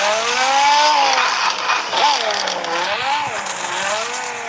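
In a driving video game, a car does a burnout, its engine revving in rising and falling sweeps while the tires squeal and skid, loud and close.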